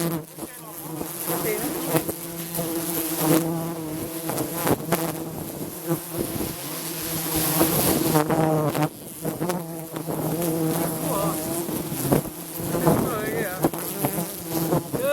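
A swarm of bees drones around fresh honey, a dense, close, continuous buzzing that rises and falls in pitch as insects move about, with a few faint voices in the background.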